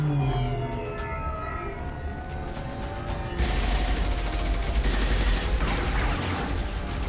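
Gunfire in the Mass Effect 2 video game, a dense rattling fusillade that swells from about three seconds in over tonal game music and mechanical noise, loud and continuous to the end.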